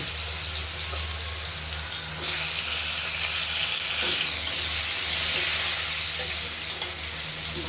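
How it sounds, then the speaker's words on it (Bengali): Steady sizzling of potatoes frying in oil, broadband and continuous, with occasional stirring scrapes and a brief surge in hiss partway through; no voices. "হলুদ করে ভাজা করার জন্য"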